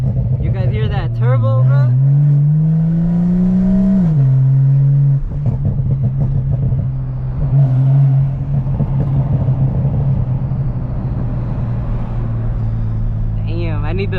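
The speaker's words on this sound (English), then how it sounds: "You guys hear that turbo, bro?" A tuned BMW M340i with a straight-pipe exhaust accelerates, heard from inside the car as a steady low engine drone whose pitch climbs, dips and then settles, with clattering noise and talk over it.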